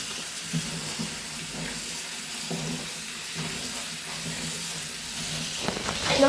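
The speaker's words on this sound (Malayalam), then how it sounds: "ഇനി ഇത് വെള്ളത്തിലേക്ക് ഇടണം." A kitchen tap runs steadily into a sink while pieces of bitter gourd are dropped into the water, a constant hissing wash with faint splashes and a small knock at the end.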